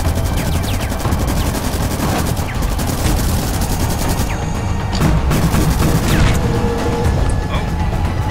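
Automated sentry turret firing in the sci-fi tactical game The Red Solstice, a loud, sustained rattle of rapid gunfire with heavy crashes and booms running through the whole stretch.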